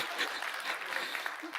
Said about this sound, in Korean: 이거 박수 안 쳐도 돼.